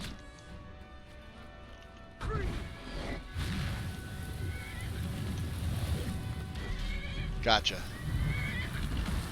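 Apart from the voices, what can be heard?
horse neighing in a video game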